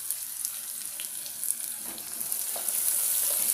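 Onions sizzle and crackle in hot oil in a home kitchen while cooking githeri, a steady bright frying hiss with small pops that grows slightly louder toward the end.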